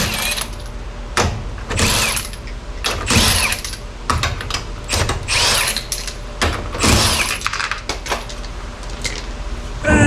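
A car wheel coming off for a front bearing check, with repeated loud bursts from an impact wrench or power tool and ratcheting clatter between them, close to the microphone.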